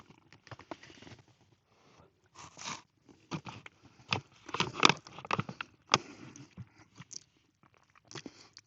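Crunchy undercooked pasta is chewed at a camp, with irregular close crisp crunches and bites spread across quiet pauses.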